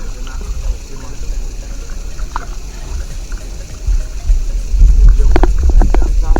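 At a campsite in Latvia, a tap runs with iron-rich water, a continuous low rushing flow that swells toward the end with a few splashy spatters.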